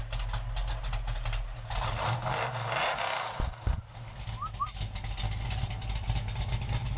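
A Dodge Challenger muscle car engine idles with a steady low rumble throughout, briefly dipping before settling back into its even idle.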